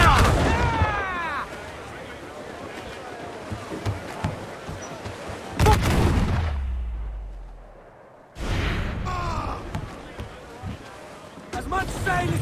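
Ship cannon fire in Assassin's Creed IV Black Flag, heavy booms with long rumbling tails amid shouting crew voices and sea and battle noise throughout.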